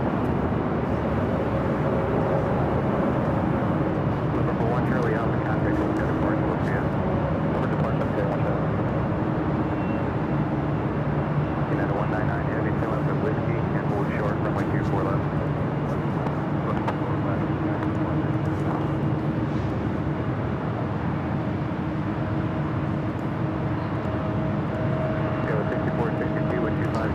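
An airliner at LAX, among them an Emirates A380, powers up for takeoff on the north side, giving a steady distant engine roar that holds for the whole stretch over faint background noise.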